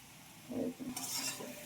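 Kolmi greens frying in fish oil in an uncovered pan, with a soft stirring scrape and a brief rise of sizzle partway through, close and fairly quiet.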